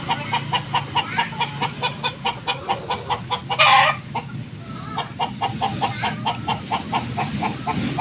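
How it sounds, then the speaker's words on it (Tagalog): A chicken clucks repeatedly in a steady, insistent rhythm, loud and close, with a brief louder squawk partway through. "Yung maingay na manok."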